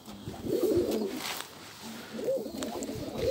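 Domestic pigeons coo in low, throaty bursts close by, two rounds of rolling calls separated by a short pause, with no talking.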